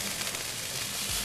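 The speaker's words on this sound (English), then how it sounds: "you've got to fry it up until the ginger becomes completely translucent" Ginger frying in a pan with a splash of balsamic vinegar gives off a steady, fairly quiet broadband sizzle that stays even for the whole short stretch, with no voices over it.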